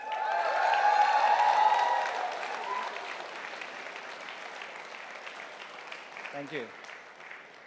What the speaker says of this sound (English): Also, a big round of applause for the ColorOS team for making it possible.